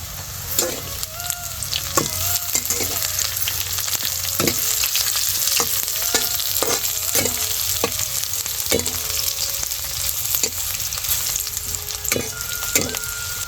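Onion and garlic sautéing in a pan for a spinach bhaji, a constant close sizzle with frequent sharp clinks and scrapes of a spoon against the pan, and no voices.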